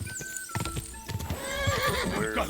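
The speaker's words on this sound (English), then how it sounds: "This horse is pissed." Horse in the video game Kingdom Come Deliverance 2 whinnies loudly and stamps its hooves, with rapid clip-clop footfalls and a long agitated neigh building over the final second and a half amid game ambience.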